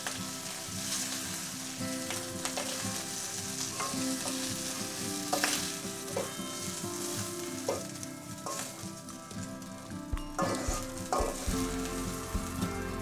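Fish sizzles steadily in a hot frying pan, with occasional stirring scrapes and spatters over a continuous crackling hiss, loud and close throughout.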